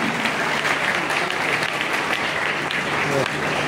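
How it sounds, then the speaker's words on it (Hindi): A crowd at a formal community event breaks into loud, dense applause that holds steady and close for the whole stretch, with no pauses. "जोरदार ताली जोरदार ताली।"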